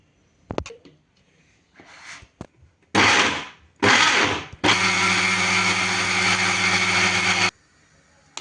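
A mixer grinder blends a tomato curry paste with curd, sugar and coriander, running in two short bursts and then one long steady whir of about three seconds, loud and close, with a few clicks and knocks before it starts.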